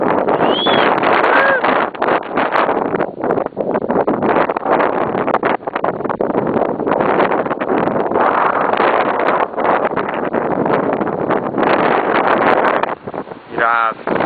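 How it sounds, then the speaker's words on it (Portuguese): Motorboat ride on a river through mangroves in Maranhão, with steady engine and wind roar filling the whole stretch and a voice briefly audible over the noise. "Um passeio de lancha, a gente dá a volta nesse passeio"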